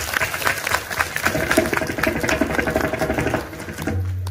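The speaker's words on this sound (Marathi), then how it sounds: "आज आपल्या कीर्तनात ज्यांना ज्यांना मुली आहेत, मुलीसाठी सर्वांनी एकदा जोरदार टाळ्या वाजवा" A kirtan audience claps hard and continuously for fathers of daughters, a dense, loud patter of many hands that thins out and fades near the end.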